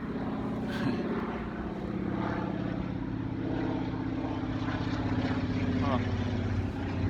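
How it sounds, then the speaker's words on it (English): A seaplane passes overhead, its propeller engine droning as a steady, low, continuous hum throughout, with a voice talking faintly beneath it. "it's a water plane."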